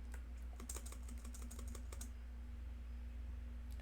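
Rapid keystrokes on a computer keyboard while writing JavaScript code, a quick burst of clicking taps for about two seconds and then a pause, over a steady low hum.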